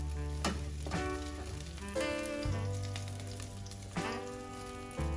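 Salmon frying in a pan, a steady crackling sizzle with spitting bursts that swell and ease in waves, close and fairly loud.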